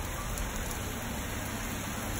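Steady, dense hiss of heavy rain pouring without pause, constant and loud, with no voices.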